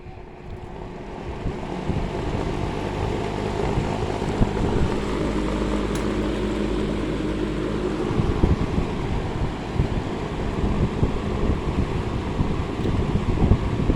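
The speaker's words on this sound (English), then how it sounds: "Good running fan, moves a lot of air, and it's pretty quiet." A 1972 Kmart P-23 electric fan runs on its high setting with a steady, broad whooshing rush of moving air and a low motor hum, continuous and fairly loud up close.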